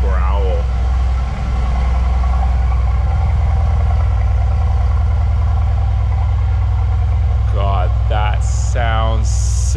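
A 500 hp Mercedes-AMG idles with a steady, deep, rumbling growl that stays level and close throughout, while a voice speaks briefly near the start and near the end.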